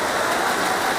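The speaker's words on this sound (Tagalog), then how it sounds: "Oh, lakas ng ulan guys." Heavy rain pouring down near a tennis court, a dense, steady roar of drops with no pauses, loud and close.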